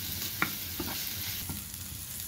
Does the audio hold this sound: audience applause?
no